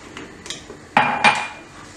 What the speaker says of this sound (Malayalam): ഇത് നന്നായിട്ടത് ഇളക്കി കൊടുക്കുക.